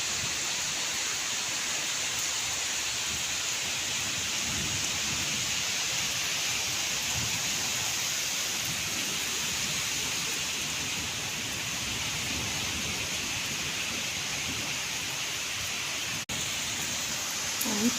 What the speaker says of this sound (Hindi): बहुत तेज बारिश हो रही है, इतनी तेज बारिश।